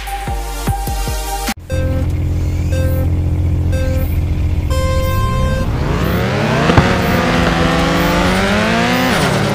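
A rotary-engine drift car in FR Legends revs hard, its buzzing, high-pitched engine tone climbing and sweeping steadily upward after a brief cut, loud and close, with no talking.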